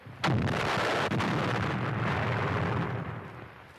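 A rifle shot from a German sniper cracks loudly and close, followed by a long rumbling echo that fades over about three seconds, with a fainter second report shortly after the first.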